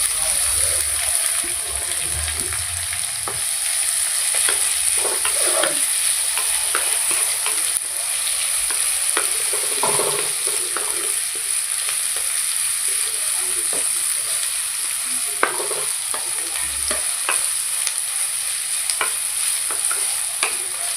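Onions fry in a pan for a potato and fenugreek dish, giving a continuous close sizzle with soft scraping stirs repeating throughout, steady and unbroken.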